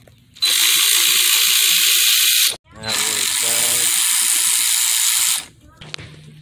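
A ratchet removes 10mm radiator fan bolts on a 1996 Honda Civic: two long, loud runs of fast clicking close by, split by a brief pause, then a short murmur of voice afterward.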